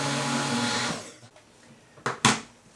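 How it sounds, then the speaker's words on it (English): A blender whirs loudly while mixing a homemade magnesium lotion, running steadily for about a second before cutting off, followed by a few short sharp clunks and bursts. "I'm going to blend that a little bit more."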